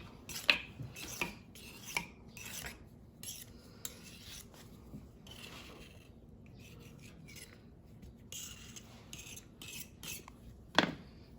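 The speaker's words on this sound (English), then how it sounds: "And with the knife, you cut the extra on the top." A knife scrapes and rasps against a tart tin, trimming excess pastry from the top of a strawberry tart, with short gritty strokes and a couple of sharp clinks.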